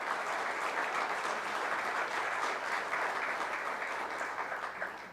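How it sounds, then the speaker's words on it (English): An audience at a citizen meeting gives elected officials a steady round of applause, dense clapping that fills the room from start to finish without any talk over it. "let's give the elected officials that are here a nice round of applause."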